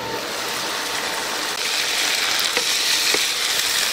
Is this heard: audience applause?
no